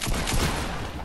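Gunfire in the Fortnite video game: a dense, loud burst of shots, lasting about a second.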